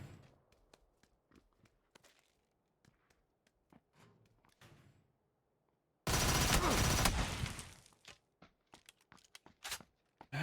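Gunfire in PUBG: scattered sharp single shots and short bursts over several seconds, then a loud dense roar of sustained fire about two seconds long, followed by more isolated shots.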